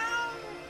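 A short, high meow from a calico cat in the video game Okami, heard alone and clearly up close.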